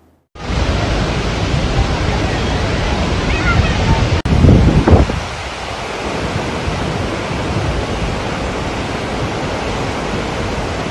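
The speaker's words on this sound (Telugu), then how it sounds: "శ్రీశైలం జలాశయ గేట్లెత్తడంతో నీటి ప్రవాహం మరింత ఎక్కువైంది" Water rushes through the opened gates of the Srisailam dam, a powerful, constant roaring torrent close by, with a brief louder surge midway before it settles back to a steady thunder.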